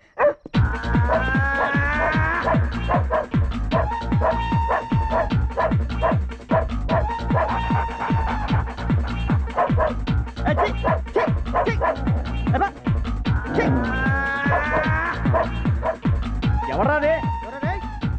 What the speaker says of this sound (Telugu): అది నిజం కుక్క.